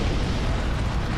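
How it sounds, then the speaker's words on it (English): Explosion in the video game Bearer of the Bonk: a dense, continuous broadband roar with heavy low rumble, loud and steady through the short burst, no voices. "Gosh dang it, you weren't supposed to explode yet"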